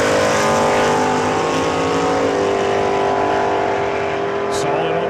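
A drag racer roars flat out down the strip at a test-and-tune session at Saskatchewan International Raceway, a loud, sustained high-revving engine drone that stays steady throughout, close and dominant.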